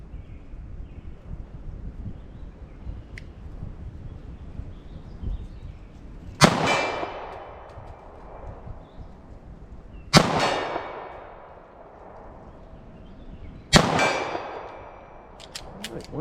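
Three loud, sharp pistol shots from .38 wadcutter rounds fired at a target 40 yards away ring out several seconds apart, each with a ringing metallic tail over faint outdoor background noise.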